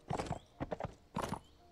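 A horse ridden in the game Mount & Blade Warband clip-clops along at a steady gait, with three bursts of hoofbeats over a low ambient bed and no talk.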